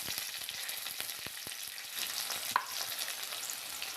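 Chopped onion and curry leaves hit hot oil already seasoned with mustard seeds and cumin, bursting into a close, lively sizzle with sharp crackles and stirring scrapes, plus one brief bright clink partway through.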